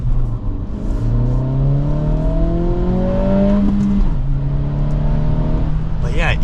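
A 2023 Acura Integra A-Spec with a manual gearbox accelerating from inside the cabin, its engine note climbing steadily through a long gear before a shift at about four seconds, then pulling again at a lower pitch.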